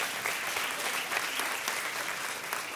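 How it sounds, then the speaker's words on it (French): Audience applause during a talk to a French-speaking crowd, a steady wash of many hands clapping at moderate volume throughout, without speech. "Si vous voulez applaudir, applaudissez pour de vrai."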